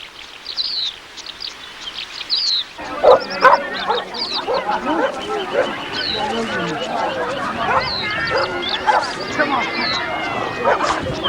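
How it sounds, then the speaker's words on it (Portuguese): A dog barks and whimpers in short repeated yips over a busy background with other voices talking and faint bird calls, the barking starting after a quiet opening and continuing throughout. "Este cão, o Chica, pertence a David."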